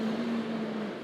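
An audience imitating a time machine together, a steady droning hum from many voices held for about a second at a moderate level.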